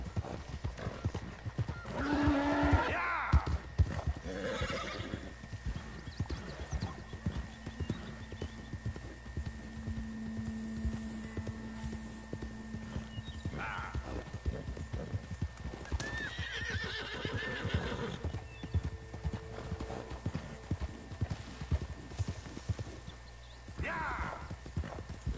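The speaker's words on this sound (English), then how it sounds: "Those are way better horses" Horses in the game Red Dead Redemption 2 around the town of Valentine, with steady clip-clop of hooves throughout and several loud neighs and whinnies, joined by occasional talk.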